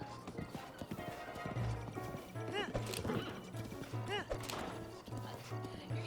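Galloping horse in The Legend of Zelda: Breath of the Wild, steady clip-clop hoofbeats with a neigh or whinny rising above game music and effects, fairly close and loud throughout.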